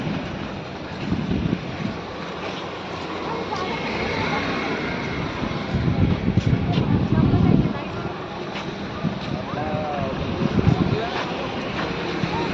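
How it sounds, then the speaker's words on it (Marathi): Steady rushing sea waves and wind fill the scene beside a historic fort, swelling now and then, with people talking over the continuous surf. "किती मोठा समुद्र आहे ना"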